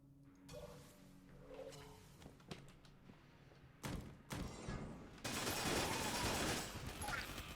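Weapon fire in the twin-stick dungeon shooter Enter the Gungeon, scattered thuds and shots building into a dense, louder rapid stream of gunfire near the end, with game effects around it.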